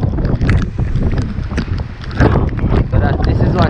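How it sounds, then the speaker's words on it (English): Storm wind and heavy rain lash a beachfront, a loud, steady roar of gusting wind and pouring rain with rough buffeting against the microphone. "A lot of wind. We have a lot of wind and a lot of rain."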